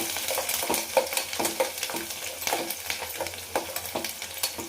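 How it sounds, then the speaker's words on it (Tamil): Cut garlic sizzling in oil with popped mustard seeds and cumin, a close crackling fry with a regular rhythm of spoon scrapes as it is stirred. "கடுகு சீரகம் நல்லா பொரிஞ்சதுக்கப்புறம் நம்ம கட் பண்ணி எடுத்து வச்சுருக்கிற பூண்டு சேர்த்துக்கோங்க"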